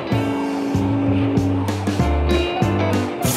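Cartoon car tires slipping and skidding backward down a road, a sustained tonal screech layered over engine and music-like hum, loud and continuous without pauses.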